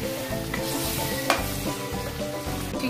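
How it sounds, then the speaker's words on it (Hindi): Chicken for a ghee roast fries in a pan with garlic, chili and ginger paste, sizzling steadily and loudly up close while a utensil stirs and scrapes through it, with no talking. "इसे भी थोड़ी देर तक भूनेंगे।"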